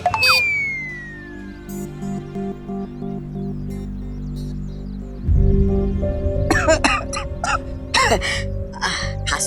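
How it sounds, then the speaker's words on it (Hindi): Someone coughs several times in quick, harsh bursts over steady background music. "खांसी हो रही है"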